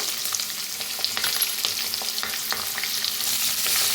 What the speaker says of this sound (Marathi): आता मिक्स करून छान असं भाजून घेऊया कांद्याला।